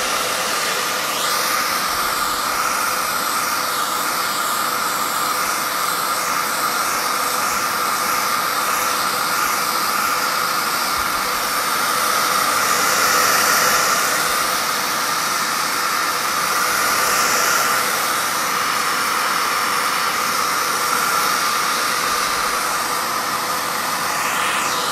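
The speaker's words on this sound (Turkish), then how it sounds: "Neden fön tutuyorum?" Hair dryer blowing steadily over stencil relief paste on a decorative panel, a continuous even hiss and whir that runs unbroken for the whole stretch without speech.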